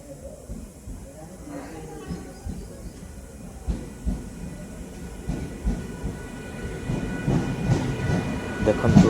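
A Paradip–Barbil passenger train runs at speed near Basantpur station in Odisha, with a steady low rumble, rhythmic rail clatter and hiss that swells toward the end, while a voice talks over it.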